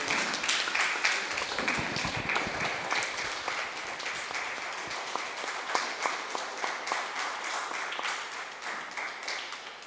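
Sustained audience applause fills a Vel Maaral devotional programme hosted by Sri Krishna Sweets in Besant Nagar, Chennai, a dense steady clatter of many hands holding at even loudness throughout, with no voices over it.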